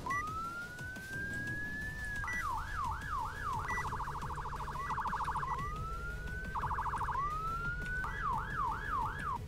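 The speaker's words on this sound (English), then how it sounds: "Check out the sirens." Emergency vehicle siren in the Roblox game ER:LC, cycling clearly through a rising wail, rapid yelps and a fast warbling pattern, loud and steady with no talking.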